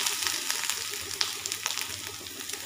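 Grated coconut fries in hot coconut oil, a dense, even sizzle close up, broken by sharper pops and stirring scrapes at irregular moments.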